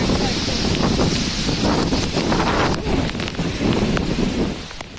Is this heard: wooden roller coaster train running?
no